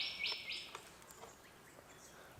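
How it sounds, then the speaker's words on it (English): Birds chirp and tweet in short scattered calls on a calm, windless sunrise morning at a lakeside kayak campsite, faint and somewhat distant with a soft background hiss and no talking. "birds everywhere"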